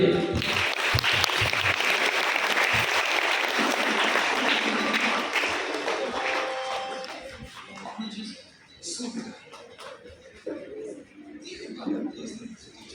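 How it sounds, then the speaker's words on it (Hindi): Parish congregation gives loud applause at a church farewell for two departing priests, clapping strongly at first and then thinning out into scattered claps and murmured voices. "जोरदार ताली होनी चाहिए।"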